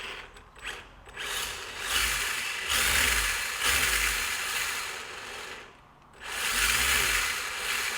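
A small Tamiya front-wheel-drive RC car's electric motor whines in repeated bursts as the throttle is blipped, surging loudly, dropping back, and briefly cutting out before revving again.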